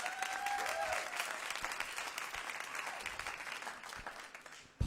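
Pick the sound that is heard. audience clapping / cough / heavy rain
audience clapping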